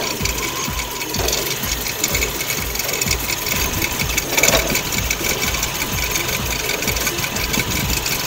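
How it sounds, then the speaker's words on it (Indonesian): A close-miked 1990 Toyota Kijang Super engine idles at very low RPM, a rhythmic chugging rumble with a faint ticking clatter running throughout. "Untuk suara mesin ini saya dekatkan mic-nya ya ke mesin, biar sampean tahu kondisi mesinnya."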